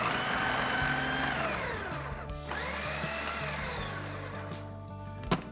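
A food processor blitzes cheesecake mixture in a steady, loud whirring drone that dips and rises in pitch as the load shifts, close up and continuous, ending with a brief clunk.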